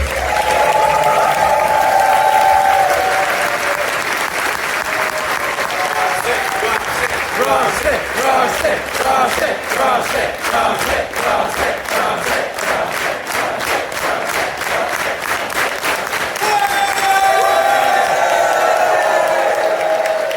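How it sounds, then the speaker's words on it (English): A large convention audience at a closing ceremony breaks into loud, sustained applause and cheering with whoops, rhythmic clapping building in the middle, and voices rising over the crowd at the start and end. "please, a huge round of applause and big thanks to Rusty."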